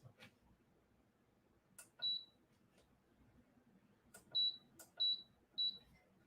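A heat press timer gives four short, high beeps, one alone and then three in an evenly spaced row, over a quiet room with a few faint clicks.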